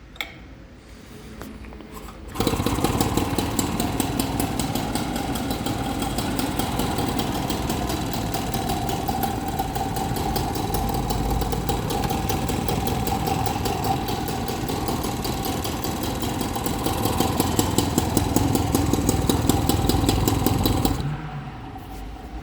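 An old moped engine with points ignition and an old-style crankshaft idles steadily up close, a rapid mechanical clatter with a sharp recurring clack running loud and unbroken for about twenty seconds before dropping away.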